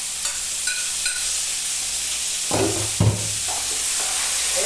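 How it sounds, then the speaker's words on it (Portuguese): Sun-dried beef (carne de sol) frying in a pan with garlic and oil, a constant hiss of hot fat with a couple of louder crackling bursts as pieces settle, close and without talk. "vamos colocar a carne de sol para fritar"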